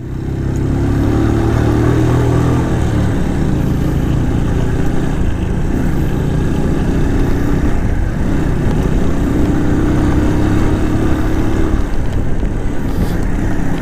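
A small 100cc motorcycle engine drones steadily and loudly throughout a ride on a rural road in Aguilar, Pangasinan, with a low continuous hum and slight shifts in pitch, no voices.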